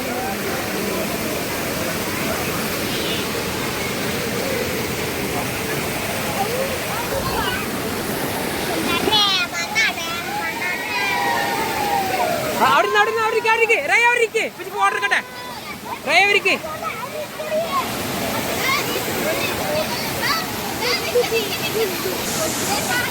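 Vattayi Waterfalls rushes in a steady broadband roar throughout, with children's excited voices and chatter rising over the water in the middle stretch.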